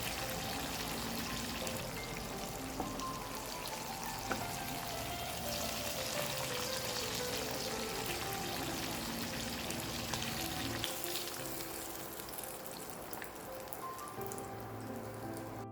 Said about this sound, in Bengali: মাছটা এবার হালকা গোল্ডেন হয়ে এসেছে, এবার মাছটা তেল থেকে তুলে নেব।